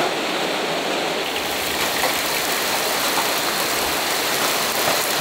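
Heavy rain pours down in a continuous, dense hiss at an off-grid homestead during the rainy season, steady and loud throughout with no voices.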